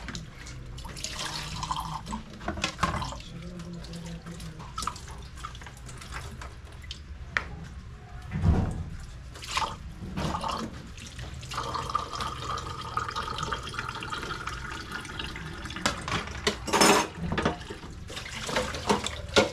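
Water runs and splashes into a container, with irregular gurgles, drips and bursts of pouring over roughly twenty seconds, close by and fairly quiet, without talking.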